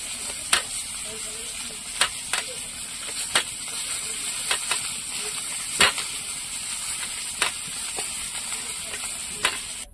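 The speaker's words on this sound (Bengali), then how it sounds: "মাছটা ভাজা হয়ে গেছে" Pangas fish pieces frying in hot oil in a village kitchen give a steady close sizzle, broken by sharp clinks and stirring knocks from a utensil every second or so.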